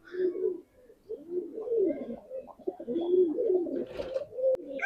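Pigeons coo in a loft housing long-bodied white birds, a run of low rolling coos repeating close by with brief pauses, a few faint higher chirps above.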